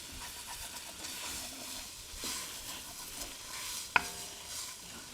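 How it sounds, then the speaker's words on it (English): Onions being stirred and scraped in a soup pot, a soft continuous scraping and faint sizzle with a sharp clink near the end, no voices. "Stir, scrape, stir and scrape"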